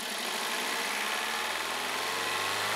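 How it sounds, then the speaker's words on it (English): A car engine runs at a steady idle, with a constant dense mechanical hum and no change in speed. "Start the engine."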